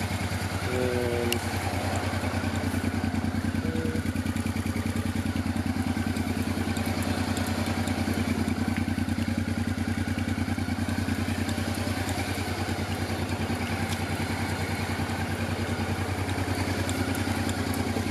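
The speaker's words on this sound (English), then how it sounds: "really healthy sounding engine." A 1995 Honda Africa Twin 750 RD07 motorcycle idles steadily and evenly up close for a long stretch, its engine running smoothly on its own with no talking.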